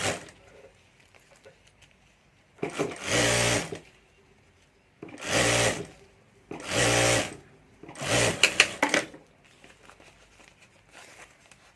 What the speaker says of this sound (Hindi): ऊपर हमें जिप रखकर सिलाई कर देनी है।